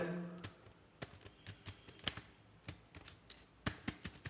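Rapid, irregular keystrokes on a computer keyboard during Python programming, crisp clicks close up with short pauses between bursts and no voice over them.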